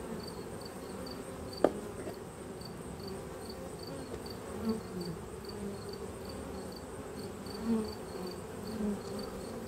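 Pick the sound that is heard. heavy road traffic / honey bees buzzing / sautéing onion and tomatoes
honey bees buzzing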